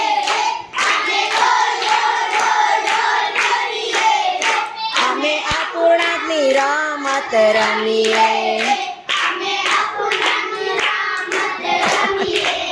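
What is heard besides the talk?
children clapping hands while singing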